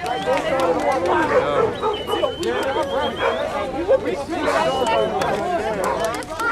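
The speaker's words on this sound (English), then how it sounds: "Oh, they done brought the dogs out." Dogs bark and yip amid a crowd on a city street during a riot, the barking scattered and close while many people chatter and shout over the whole stretch.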